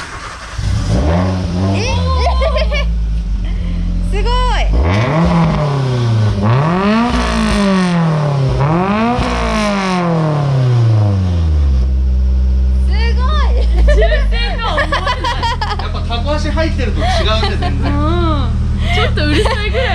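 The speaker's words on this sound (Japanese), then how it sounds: "マフラー音とかも聞いてみたい。" Nissan March 12SR engine and exhaust rev loudly and close, rising and falling in several sharp throttle blips before settling to a throbbing idle, with people talking over it.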